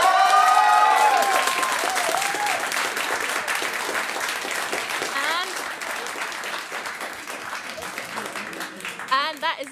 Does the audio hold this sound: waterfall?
no